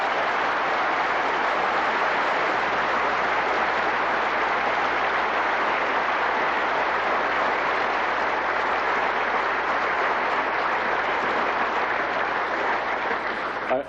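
Sustained audience applause fills a hall at a 1986 Sinn Féin Ard Fheis party conference, a dense, steady wash of clapping that holds at full strength throughout before tapering at the very end.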